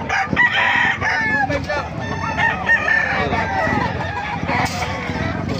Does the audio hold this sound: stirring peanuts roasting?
no